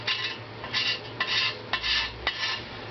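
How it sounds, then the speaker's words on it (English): A chisel scrapes residue off a Honda CX500 engine part during restoration, giving a series of short metallic scraping strokes, about six of them in an uneven rhythm, close and fairly quiet. "the chisel right on top of it and scratch it away."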